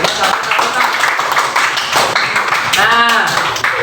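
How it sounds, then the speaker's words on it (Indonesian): An audience clapping their hands together, a dense, steady patter of many hands that stays loud throughout while a voice talks over it. "tepuk tangan dulu"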